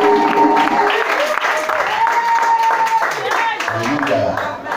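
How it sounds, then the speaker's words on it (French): A church congregation at an Easter service applauds, a dense, sustained burst of many hands clapping in a reverberant hall, mixed with voices and cheering. "On acclame le Seigneur Jésus."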